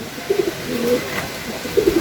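A pigeon coos in short, soft, repeated phrases, close by, with brief pauses between calls and no speech.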